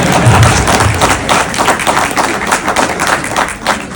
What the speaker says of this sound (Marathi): ज्यांनी माझे बघितले त्यांनी टाळ्या वाजवा